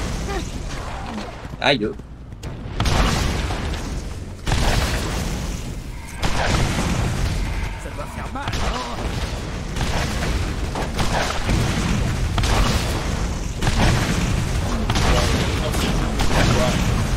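Rocket launcher blasts in Borderlands, several heavy booming explosions in sequence with rumbling tails, a player talking and exclaiming over them.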